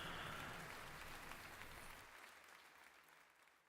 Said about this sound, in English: Oh, that's part of the song. I was like, why is there applause?